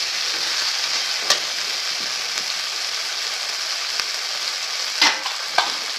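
Chopped tomato goes into spices frying in oil for a potato and pointed gourd vegetarian dish, giving a steady close sizzle broken by a few sharp stirring clicks.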